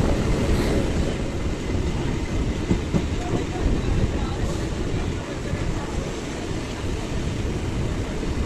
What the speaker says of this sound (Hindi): तो अभी हम लोग आ चुके हैं पाटलिपुत्रा रेलवे स्टेशन।